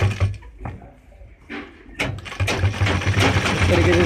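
A sewing machine stitching a trouser pocket, with short bursts of whirring needle runs that start and stop, then a longer steady run, loud and close, with faint handling noises between.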